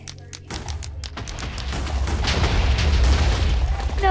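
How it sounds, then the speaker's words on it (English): TNT blocks detonating in Minecraft on PlayStation 4: a quick run of sharp pops leads into a sustained, loud rumbling roar of chained explosions. "I say I'm gonna do a line of TNT."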